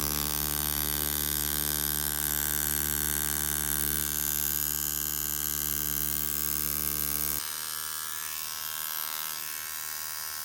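A Dan Kubin Sidewinder 7.3 tattoo machine runs steadily with a loud, bright mechanical buzz and a strong hum. The tone drops and thins abruptly near the end, and no one speaks.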